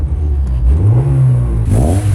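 Honda Civic EG with a Yonaka catback exhaust revs once, a loud, close engine note that climbs and then falls back, with no talking over it.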